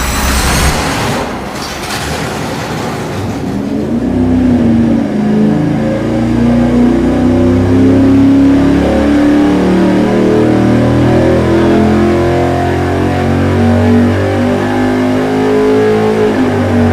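A V8 street engine on a dyno starts up with a burst of cranking noise, then settles into a loud, steady, deep running roar that rises and holds as it revs, filling the whole stretch without talk.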